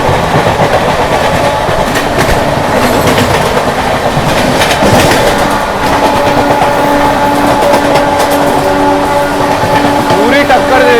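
A local commuter train runs alongside on a parallel track, heard from inside a general-class coach of a special passenger train; steady loud rumble and clickety-clack of wheels with rail hiss throughout, voices talking over it.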